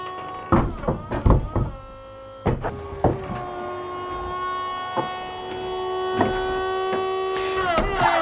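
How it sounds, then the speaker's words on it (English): Hydraulic folding roof of a Ferrari convertible cycling during a fluid bleed: a steady pump whine with a sustained tone, broken by several sharp mechanical clunks and thunks as the roof latches and panels move, close and fairly loud. "And then we're going to operate the roof to bleed it through."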